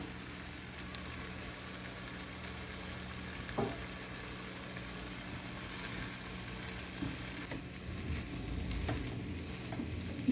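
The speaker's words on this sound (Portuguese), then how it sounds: "Mexer bem, só pro tempero pegar na abóbora" Pumpkin and chopped tomato frying in a pan for a pumpkin-and-sausage dish give a constant crackling sizzle, with scraping stirs cutting through now and then and no talking.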